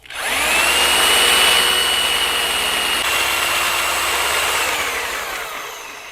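A heavy power drill bores holes for trailer ramp bars, spinning up to a loud, steady high whine that holds for several seconds and then slowly winds down.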